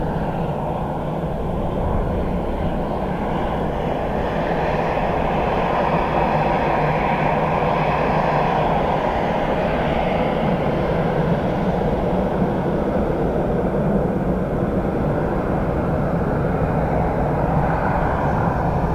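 An airliner lands on the arrivals runway at Dublin Airport, a loud, continuous jet roar that holds steady and swells slightly for nearly twenty seconds, with no talking.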